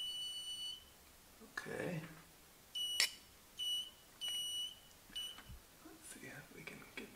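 A cheap $2 metal detector kit gives several short, loud electronic beeps in irregular bursts, with a voice speaking briefly nearby.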